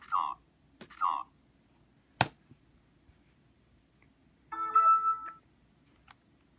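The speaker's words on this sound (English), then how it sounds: "Google Plus notification." A computer notification chime from Google Plus, a short bright tonal blip following a few faint clicks and a sharp tap, heard alone in a quiet room.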